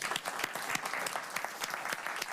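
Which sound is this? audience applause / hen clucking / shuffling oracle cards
audience applause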